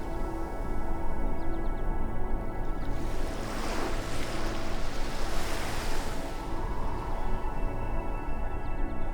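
Ocean waves wash in along the Canadian coast with a broad rushing swell that builds and recedes, steady and fairly close, with no voices.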